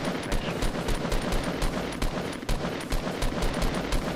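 Steady rapid gunfire from the video game Fortnite, a continuous run of sharp, regularly spaced shots at close range with no talking.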